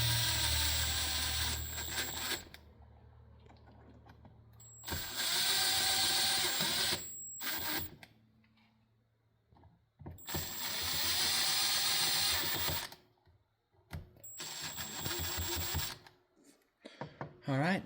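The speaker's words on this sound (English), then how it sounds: "I'm not going to make them all the way tight with this, I'm just snugging things down." Valve body bolts on a 68RFE transmission in a 2019+ Ram 2500 are snugged down with a ratchet, short bursts of rapid clicking ratcheting separated by quiet pauses, close up and moderately loud.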